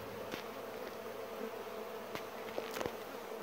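Honeybees shaken together in a jar for a mite check give a soft, continuous buzzing hum, faint and close, broken by a few light taps against the glass.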